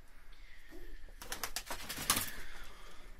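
Domestic pigeons in a loft coo with a few low, throaty rolling calls, followed by a burst of quick flapping or fluttering, close and moderately loud with no talking.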